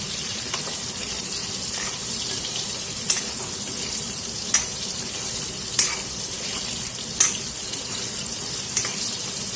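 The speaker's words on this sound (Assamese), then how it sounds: "আলুখিনি এতিয়া এনেকৈ মই ইয়াতে অলপ ৰঙচুৱাকৈ ভাজি ল'ম।" Potato pieces seasoned with turmeric and salt fry in a pan for an Assamese mutton curry, giving a steady close sizzle. Occasional louder sharp crackles and stirring scrapes cut through, with no talking.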